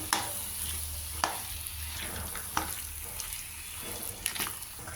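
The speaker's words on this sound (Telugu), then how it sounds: "దీన్ని మధ్య మధ్యలో మనం కలుపుకుంటూ వేయించుకుంటూ ఉండాలి" A chickpea flour mixture fries over a low flame while being stirred, giving a soft continuous sizzle with periodic scraping strokes against the pan at a quiet level.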